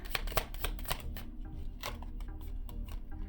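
A deck of quote cards being shuffled up close, with rapid riffling bursts and soft flicks repeating in quick clusters, fairly quiet and with no voices.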